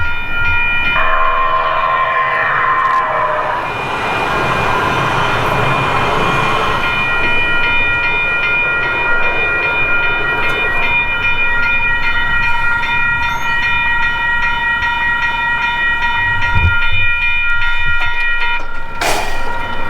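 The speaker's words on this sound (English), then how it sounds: "The train you just saw here is actually right now on the old bridge" A train rumbles past close by on the old Santa Fe Arroyo Seco Railroad Bridge in Highland Park, Los Angeles, with a long, sustained horn blast over the rolling clatter of wheels, ending with a sharp bang.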